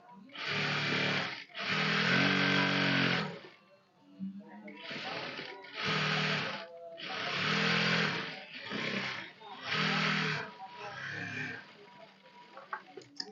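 A sewing machine runs in repeated bursts of whirring stitches along the side seam of boys' shorts, each run lasting a second or two with short pauses between, close and fairly loud.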